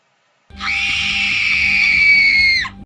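Single loud, shrill scream that holds for about two seconds, heard alone and close before stopping abruptly.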